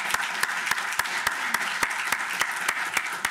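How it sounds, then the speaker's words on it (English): A symposium audience applauds a panel after a discussion, a steady wash of many hands with a few crisp, evenly spaced nearby claps cutting through, moderately loud and unbroken for a few seconds. "I'd ask that everybody join in giving them a round of applause for a great discussion today"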